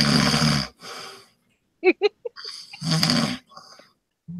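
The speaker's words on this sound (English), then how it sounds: "Wow, for once, it's not me snoring." A person snores in loud, rasping bursts separated by pauses, with short snorting, wheezy breaths in between, close to the microphone.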